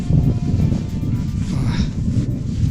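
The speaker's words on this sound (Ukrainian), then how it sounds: "Вітер хоч і не сильний, але такий пронизливий" Low, rumbling wind buffeting a microphone outdoors on a bicycle ride through the Andes in Peru, constant and fairly loud throughout.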